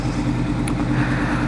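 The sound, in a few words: motorcycle engine idling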